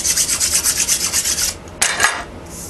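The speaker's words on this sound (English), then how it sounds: "pass the file over" A file rasps across the wing of a handmade wooden boomerang in steady, close back-and-forth strokes that pause, followed by a couple more loud scraping passes.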